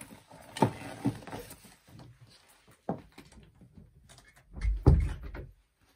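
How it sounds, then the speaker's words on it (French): A door is pulled shut indoors during a tarot card reading, giving a few scattered knocks and rattles, then a louder, fuller thud near the end, with no talk over it. "Attendez, je vais fermer la porte."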